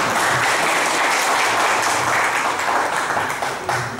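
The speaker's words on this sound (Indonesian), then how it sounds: "Tepuk tangan untuk beliau." A crowd at a formal gathering gives a guest a sustained round of applause, a thick, even roar of many clapping hands that holds steady and eases off near the end, with no speech over it.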